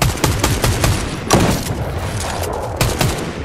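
Rapid gunfire rattles through a shooter match, with bursts of sharp cracks in quick succession, louder single shots punctuating the stretch, all close and dense with no voices over it.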